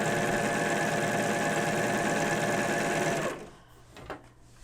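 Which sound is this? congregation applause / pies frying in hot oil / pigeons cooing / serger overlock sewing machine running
serger overlock sewing machine running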